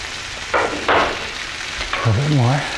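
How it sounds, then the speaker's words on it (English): Salt and pepper stirred into soup ingredients frying in a pot: soft scraping strokes and a steady sizzle, with a voice speaking briefly near the end. "And stir it around a little bit."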